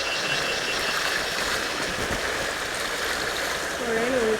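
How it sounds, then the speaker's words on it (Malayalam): A river flows with a steady broadband rush of moving water, close and continuous throughout, with a faint voice-like sound near the end. "പുഴയിൽ ഒഴുക്കുണ്ട്"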